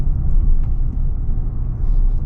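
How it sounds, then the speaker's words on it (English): A loud, steady low-pitched exhaust rumble from a 2026 pickup truck engine, Ram RHO or Toyota Tundra TRD Pro, close and continuous, with no voices. "the exhaust is pretty rumbly"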